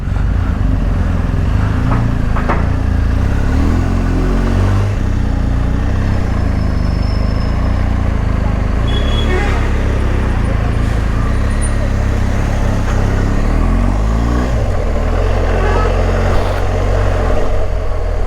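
A BMW 1250 GS motorcycle being ridden on the road, its engine drone loud and continuous under steady wind rush, with slight shifts in tone as speed changes and no talk over it.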